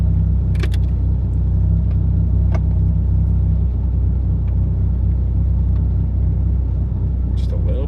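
A Dodge Viper with a manual transmission pulls away in first gear, its engine giving a steady, close, low rumble that runs the whole time under a voice giving instructions.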